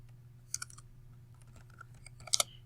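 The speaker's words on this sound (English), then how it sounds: "The Omnibox is where you can do keyword searches or you can type in URLs" A computer keyboard is typed on in a short quiet sequence of key clicks, with a couple of sharper taps near the end.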